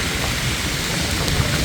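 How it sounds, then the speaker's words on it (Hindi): Heavy monsoon rain in Mumbai pours down as a loud, dense, unbroken hiss that fills the whole moment. "बारिश भी तेज़ ही है, बारिश भी कम नहीं हुई है"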